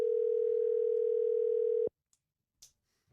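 A single steady telephone tone sounds loud and close for about two seconds during a call, then cuts off abruptly into near silence with a couple of faint clicks.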